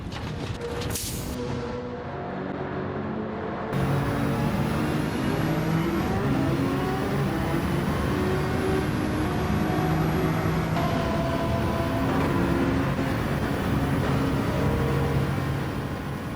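A race car in a sim racing game pulls out of the pit lane, its engine revving loudly through gear changes with a steady high whine and rising, falling pitch throughout.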